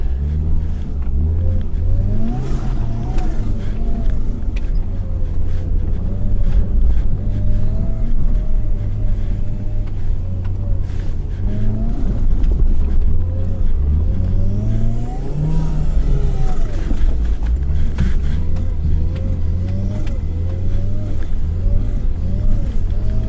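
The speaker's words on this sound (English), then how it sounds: "And this thing just keeps plowing through it." A Toyota RAV4 with a 3S-GTE swapped engine plows through foot-deep old snow, its engine loud and close, revving and surging steadily throughout, with a brief lift in pitch midway.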